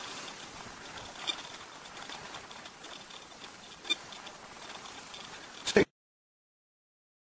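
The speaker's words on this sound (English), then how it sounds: "It's probably been raining for about an hour." Rain pattering steadily during a rainstorm, a soft, even hiss of drops with a few louder taps, faint and continuous before cutting off abruptly near the end.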